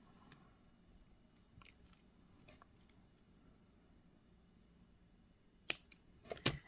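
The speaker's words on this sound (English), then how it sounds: "Cut the excess off." Wire cutters snip excess wire while a beaded earring is being made, a near-silent stretch broken by a few small ticks, then two or three crisp, close clicks near the end.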